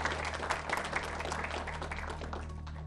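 A hall audience gives soft, steady applause for an 11th-grade lyceum student taking part in a contest show, heard faintly and evenly for a few seconds.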